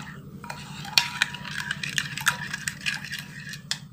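A spoon stirs a chocolate agar jelly mixture in a bowl, with irregular clinks and light scraping over a steady low hum, heard close up.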